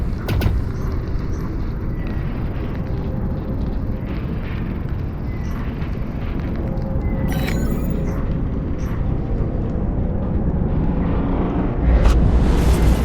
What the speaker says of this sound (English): An energy pulse from the anomaly.